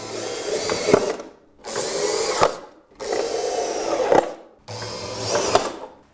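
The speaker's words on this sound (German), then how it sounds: "Bohrmaschine." A power drill whirs in four separate bursts of about a second each, separated by short pauses, close and fairly loud.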